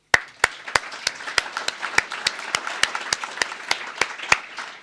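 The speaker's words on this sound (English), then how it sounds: "I ask that you give them a round of applause right now" Audience applause for debate speakers at a climate debate, a steady mass of clapping with sharp individual claps standing out, sustained and fairly close throughout.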